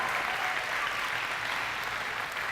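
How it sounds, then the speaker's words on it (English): School assembly applause for counselors and teaching staff, a dense, steady round of clapping from a large student crowd filling the hall without pause. "So please give them a round of applause for helping make this happen for you."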